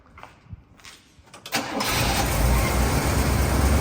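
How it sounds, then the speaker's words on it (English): A parked car's engine cold-starting after sitting overnight: a few quiet clicks and taps, then a loud crank that catches and settles into a steady, close idle. "Just wanted to demonstrate a cold start video."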